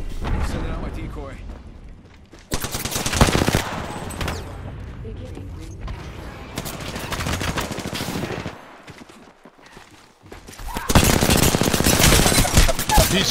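Heavy gunfire in a video game shootout comes as long, loud bursts of rapid shots and booms, pausing briefly between volleys, with a player talking over the action.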